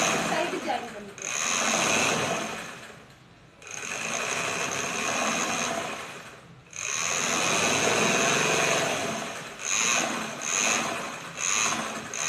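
A sewing machine runs in long continuous bursts while stitching a pocket onto a churidar, pausing briefly between runs, with someone talking over it.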